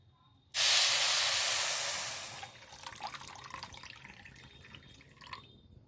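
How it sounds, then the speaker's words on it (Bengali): Water poured onto sugar in a pot for boondi syrup makes a loud, close gush that tapers off after a couple of seconds, followed by softer trickling and dripping. "এবার দিয়ে দেব জল"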